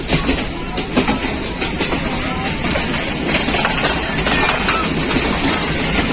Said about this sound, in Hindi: बॉर्डर के साथ साथ ट्रेन चलती है